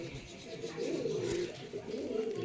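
Pigeons coo steadily and close by, their soft, rolling calls continuing through the whole stretch from prized long-winged, tight-tailed fancy birds kept at a breeder's home, with no talk.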